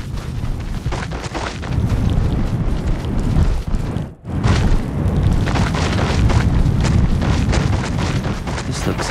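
Expulso spell explosions in the Hogwarts Legacy video game, loud, heavy booming blasts with crackling debris that fill the whole stretch, broken only by a brief dip near the middle before the rumbling roar resumes.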